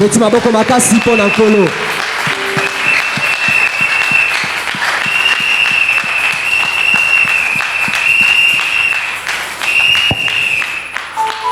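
A church congregation applauds for the Lord in a dense, loud, sustained burst of clapping that fills the room, with voices calling out and a singer or preacher's voice rising over the clapping.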